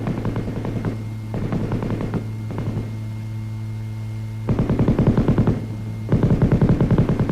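An M60 7.62 mm belt-fed, gas-operated machine gun fires in rapid bursts of rattling shots, with short pauses between the bursts, over a constant electrical hum.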